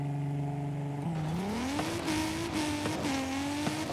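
A Supra-like inline engine in the Forza Horizon racing game holds a steady drone, then climbs in pitch as it revs up and shifts through gears, with brief tire squeal over continuous road noise.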